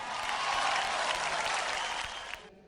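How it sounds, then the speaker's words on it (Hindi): Applause from a dance competition audience, a dense, steady clatter of many hands that fills the clip and then cuts off sharply near the end. "तो इन दोनों के लिए एक बार जोरदार तालियां"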